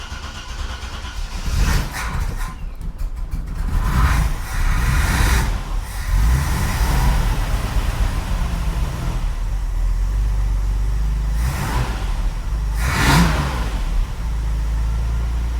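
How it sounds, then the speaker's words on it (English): A car engine cranks and catches, then revs up and down several times before settling into a steady idle. "let's make sure that the accelerator's revving nicely and it's not holding the throttle open"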